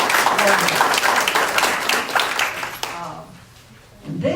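An audience applauds the staff and administration in a full, dense round of clapping mixed with cheers that carries for nearly three seconds, then cuts off, and a speaker resumes talking.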